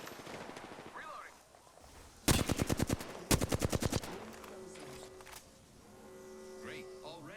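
Two loud bursts of rapid automatic gunfire rattle out in a battle royale shooter, each lasting about a second, with synthetic game voice lines and ambient tones around them.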